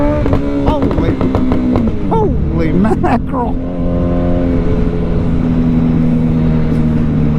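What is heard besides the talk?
Suzuki Hayabusa motorcycle exhaust pipe note while riding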